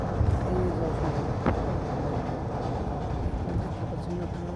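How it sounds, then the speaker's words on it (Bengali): An intercity train passes a road crossing beside the Asian Highway, a steady loud rolling rumble of wheels and carriages with one sharp click partway through. "দেখতে পাচ্ছেন আপনারা আন্তনগর ট্রেনটি ক্রসিং হলো।"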